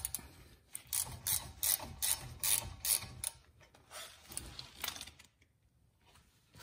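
A ratchet wrench loosens the shock bolts on a Porsche Cayman 987, giving repeated bursts of close, crisp clicking in an uneven rhythm before it falls quiet.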